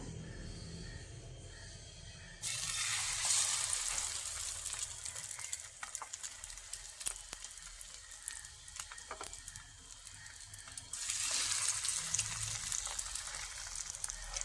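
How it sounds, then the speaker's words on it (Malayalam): Slices of bread dipped in beaten egg sizzle and fry in a pan, a steady close crackling hiss that jumps louder as pieces go in and swells again near the end. "നമുക്ക് കലക്കി വെച്ചിരിക്കുന്ന മുട്ടയിലേക്ക് മുക്കിയിട്ട് പാനിലേക്ക് ഇട്ട് കൊടുക്കാം"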